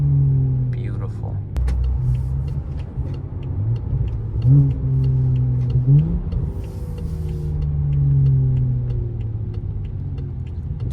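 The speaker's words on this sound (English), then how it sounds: "Downshifts are so beautiful on this car." A BMW 535i engine with Stage 2+ tuning rumbles and revs, pitch climbing and dropping through repeated downshifts, with people talking over the steady drone.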